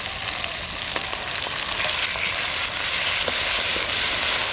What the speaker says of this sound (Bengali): পেঁয়াজ টমেটো ভাজা হয়ে গেছে আদা রসুন কাঁচা লঙ্কা বাটা একসঙ্গে দিয়ে দেবো